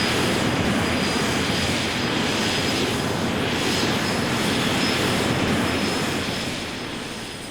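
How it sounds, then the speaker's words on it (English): Steady loud roar of a HondaJet's jet engines in Flight Simulator X, a continuous broadband whoosh that holds level and then eases slightly toward the end, with no voices. "It's a little HondaJet."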